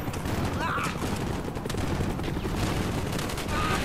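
Dense, continuous gunfire from a Call of Duty Black Ops firefight in a trench battle, loud and unbroken, with shouted voices mixed into the din.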